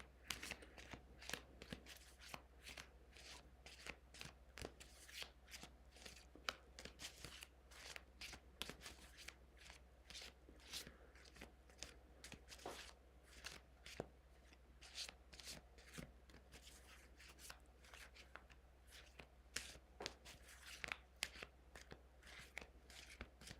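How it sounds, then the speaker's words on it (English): Playing cards shuffled over and over in a quiet room, a steady run of crisp riffling bursts and soft rubs, close to the mic and fairly faint, with a low steady hum underneath. "I always forget when I shuffle like this, it kind of picks it up on the mic"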